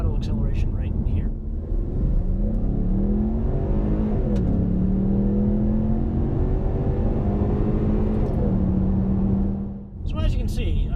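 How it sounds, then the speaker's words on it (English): A 2015 Ford Mustang EcoBoost accelerates at full throttle, a close, rising engine drone climbing through several gears with audible shift dips and a faint turbo whistle, then backing off at the end. "let me cut to a clip showing a full throttle acceleration right here"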